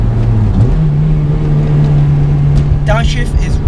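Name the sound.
Honda Civic Type R FD2 engine revving on throttle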